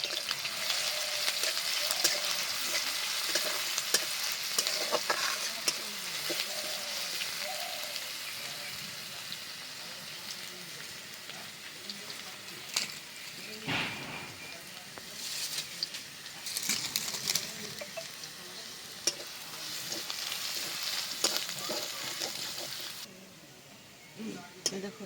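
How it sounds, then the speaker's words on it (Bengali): Crushed garlic and black cumin frying in hot oil, a steady close sizzle with occasional stirring clatter, under intermittent talk. "এবার দিয়ে দেবো থেতো করে রাখা রসুন"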